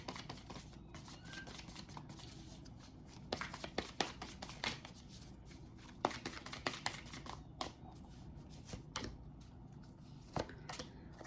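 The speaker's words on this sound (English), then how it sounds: "We're going to go ahead and pull 2 of the Animal Spirit Oracle cards." Oracle cards from an Animal Spirit Oracle deck are shuffled and handled, giving a run of close, crisp papery riffles, flicks and taps that go on for about eleven seconds with no voice.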